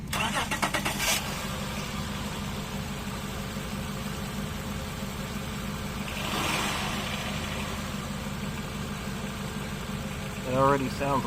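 A 2007 Honda Accord 3.0 V6 engine cranks and starts after a belt replacement, then settles into a steady idle nearby, with a person speaking briefly near the end.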